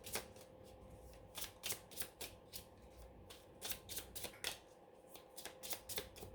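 Playing cards shuffled and drawn for a card reading, a steady series of soft riffling flicks and slaps at close range, fairly quiet and rhythmic with no talk over them.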